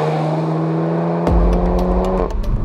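A Volkswagen Golf GTI Clubsport engine on a road near the Nürburgring: a steady hum, then an abrupt loud surge of revving and acceleration at about 1.3 seconds that holds strong to the end, with a few quick shifts.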